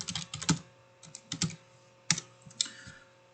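Keys clatter on a computer keyboard in short bursts of quick taps with brief pauses between them, close and fairly quiet.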